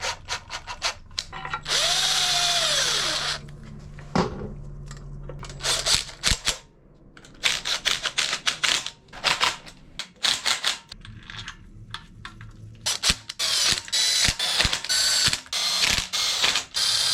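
Power tool driving bolts into a K24 engine oil pump cover, a series of sharp ratcheting and whirring bursts separated by quiet pauses, close and loud, with one longer spin near the start.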